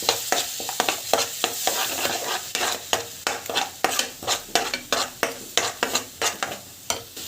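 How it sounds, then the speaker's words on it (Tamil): Ground tomato sautéing in a pan, stirred in a brisk steady rhythm of close scraping strokes over a continuous sizzle. "அதுவும் வந்து ஆட் பண்ணிவிட்டு நல்லா வந்து வதங்கணும்."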